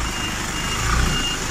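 A diesel tanker truck reversing into position for a fill-up in Saudi Arabia, its reverse alarm beeping steadily and repeatedly over a constant engine rumble, fairly loud and close, with no talk.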